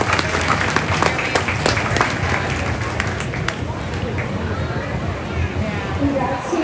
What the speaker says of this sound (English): Let's give him a big round of applause as he exits the ring